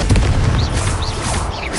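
Booming explosion from the Confringo fire blast spell in Hogwarts Legacy, a loud sustained low rumble with a crackling upper layer and faint whooshing sweeps rising over it.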